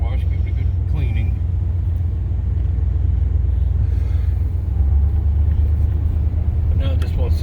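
Chevy G20 conversion van driving along, with a loud, steady low engine and road rumble filling the cabin and someone talking briefly over it.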